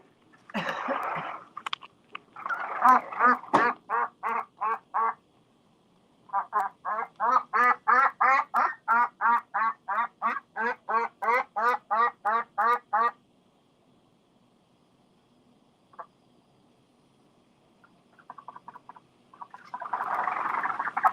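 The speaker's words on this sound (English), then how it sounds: "He will chase me to the door and get some kind of adult quack that she never uses" A pet duck quacks loudly near a house door, giving long runs of rapid, rhythmic, raspy quacks in close succession, pausing in near silence, then resuming with a harsher burst at the end.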